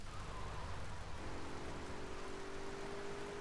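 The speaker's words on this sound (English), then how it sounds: "How the fuck is it still raining?" Rain falls in the video game GTA3, heard as a faint, steady hiss of drops with a soft low rumble underneath and no talking.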